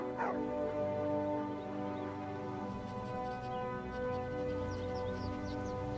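A dog in VR Skyrim barks, yips and whimpers over a steady tonal game hum, with a sharp bark near the start and softer repeated yelps after.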